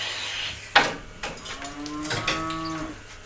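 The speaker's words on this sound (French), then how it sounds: "Alors Daniel, vous avez un cheptel de combien de vaches" Dairy cows on a farm on the Ardèche plateau low with several drawn-out, resonant moos, one near and loud after a sharp knock, with others overlapping in the background.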